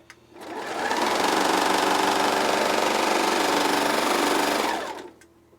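Serger sewing machine running a steady stitch for about four seconds, a loud, even mechanical whir close by that starts and stops cleanly.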